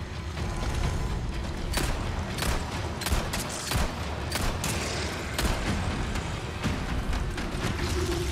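Rapid gunfire from Resident Evil 4's Separate Ways DLC, played as Albert Wesker. Loud, dense bursts of shots crack repeatedly throughout, closely spaced over a constant roar of action.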